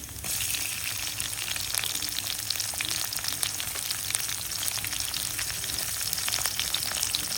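Cumin, garlic and green chili sizzle in hot oil in a pan for okra bhaji, a dense, continuous crackling fry close by with faint stirring and no talk.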